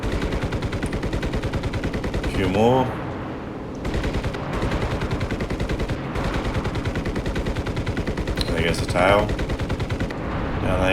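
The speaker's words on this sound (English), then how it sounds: "You can hear that 30mm cannon going off." Rapid bursts of 30mm cannon fire from a Spitfire LF Mk IX in the game Enlisted hammer almost nonstop, with a brief lull midway and someone talking over the shooting.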